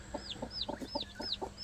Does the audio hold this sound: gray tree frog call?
no